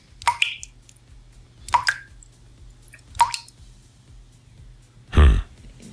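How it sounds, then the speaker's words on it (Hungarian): A dripping water tap, with three separate drops falling at slow, uneven intervals, fairly close and clear, followed by a louder, brief splashy burst near the end. "Azt mondják, hogy nagyon sokak számára kibírhatatlan a csöpögő csap."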